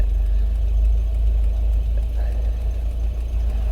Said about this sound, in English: if you start the engine, it stays on for a little bit